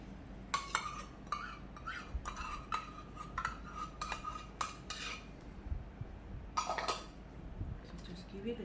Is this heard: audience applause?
no